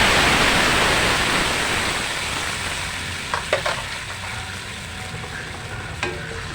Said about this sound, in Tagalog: Palalatain muna natin ito ng bawang sibuyas.